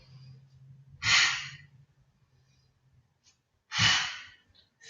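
Two forceful exhalations during a Pilates class, each a short breathy burst about a second apart from the next, close and fairly loud over a faint low hum.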